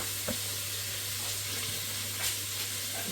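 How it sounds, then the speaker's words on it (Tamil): Onions frying and sautéing in a pan for Arabian chicken kabsa biryani, a steady soft sizzle with occasional stirring scrapes and a low constant hum beneath. "வெங்காயம் இதோட சேர்ந்து கொஞ்சம் சீக்கிரம் நல்லா வதங்கும்."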